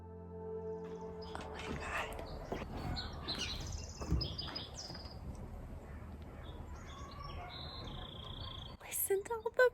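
Many birds chirp and sing in a spring countryside setting, with bright overlapping calls throughout, a soft rustling background and a few louder, closer notes near the end.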